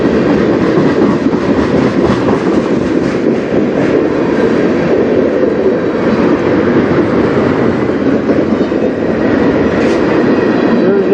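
A CN freight train rolls past on the Strathroy Subdivision near Sarnia, Ontario, on a chilly day: a loud, steady rumble with continuous clickety-clack of wheels on the rails, close by and running unbroken throughout.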